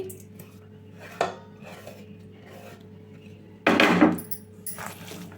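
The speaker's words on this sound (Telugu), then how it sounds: "ఇవన్నిటిని ఒక్కసారి ఈ విధంగా కలుపుకుందాము విడివిడిగా వచ్చే విధంగా అయితే" Sliced onions and green chillies are tossed by hand in a wide bowl, giving soft scraping rubs with two louder rustling pushes, close and alone without talk.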